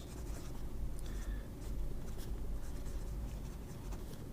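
A broad Sheaffer Imperial fountain pen nib glides wetly across paper, giving a faint, steady, smooth scratching close up, with no talking.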